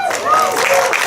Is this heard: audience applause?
yes